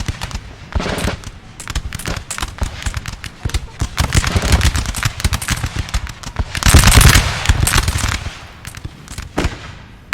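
Massed musket volleys in the Napoleon Total War battle at Borodino crackle in dense, rapid rolling bursts, loud and continuous with a heavier swell near the middle, mixed with faint battlefield clamor.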